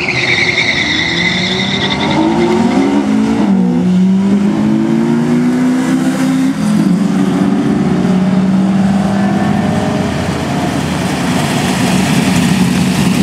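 A Ford Contour hatchback and an Acura RSX Type S drag race, engines roaring loud and close, with rising and falling revs through gear changes as the cars pull away, over constant crowd and track noise.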